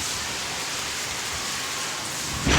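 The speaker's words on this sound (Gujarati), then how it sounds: "વરસાદ તો જોરદાર ચાલુ થઈ ગયો છે" Heavy rain with wind pours steadily in a dense, continuous hiss, with a sudden louder gust near the end.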